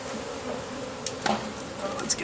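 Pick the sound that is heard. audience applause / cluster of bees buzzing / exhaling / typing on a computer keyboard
cluster of bees buzzing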